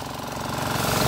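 A boat's outboard motor drones steadily while motoring about six kilometres off the coast at sea in windless conditions, a continuous close, even engine hum with no voices.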